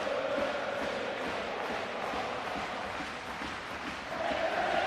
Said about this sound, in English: Huge crowd at Ibrox today, terrific support as ever